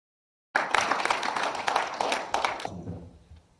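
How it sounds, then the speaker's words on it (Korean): A forum audience applauds a speaker, starting abruptly after a moment of silence with a burst of clapping that holds briefly, then tails off into scattered claps and room tone. "다시 한번 송희섭 대표님께 뜨거운 박수 보내주시기 바랍니다."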